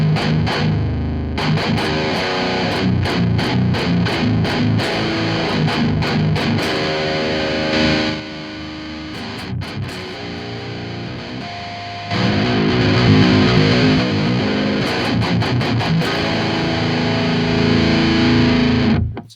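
Heavily saturated electric guitar through the RVXX aggressive high-gain amp sim with the master volume cranked, chugging palm-muted riffs and chords with sharp stops, dense and compressed, steady loudness throughout, no voice.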